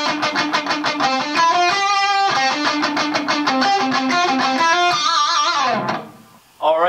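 Electric guitar plays a fast lead lick of rapid, distinct notes with hammer-ons, steady and up close for about six seconds before a brief dip and a restart.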